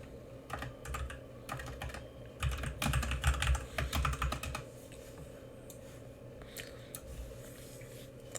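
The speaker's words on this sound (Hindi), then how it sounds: "आप आवाज़ सुन पा रहे होगे कीबोर्ड्स की।" Steady clatter of computer keyboard keys being typed nearby, in uneven bursts with a denser flurry in the middle, with no voices.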